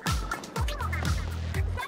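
A bird call in the Splatoon 2 video game, a loud gobbling, honking squawk repeated several times in quick succession, close and dominant with no talk over it.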